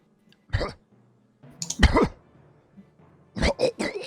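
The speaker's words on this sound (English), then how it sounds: "As the guy starts coughing." Three bursts of harsh coughing, close and loud, separated by short pauses, the last a quick double cough.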